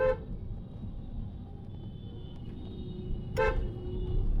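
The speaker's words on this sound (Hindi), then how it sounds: "ट्रैफिक है यार अच्छा खासा यहाँ पे।" Dense road traffic in Kanpur rumbles steadily, low and continuous, with a faint horn early on and a sharp, louder car horn honk cutting through near the end.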